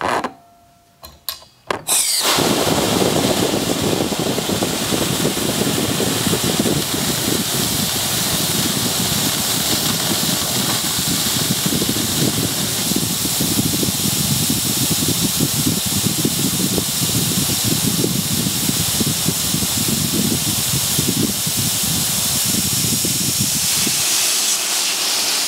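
A BVV dry ice maker hisses loudly and steadily during a run, a continuous close spray of gas lasting over twenty seconds after a few brief clunks at the start, then cutting off near the end.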